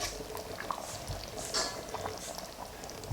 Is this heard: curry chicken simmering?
yes